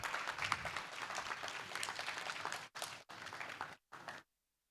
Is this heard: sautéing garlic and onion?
no